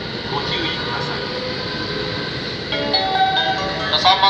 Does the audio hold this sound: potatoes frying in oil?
no